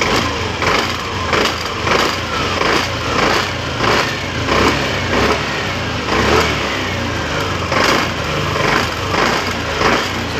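A Yamaha NMax 155 scooter engine running cold, with its CVT casing and plates vibrating: a steady, close, loud mechanical idle with a regular pulsing rattle throughout, no talking.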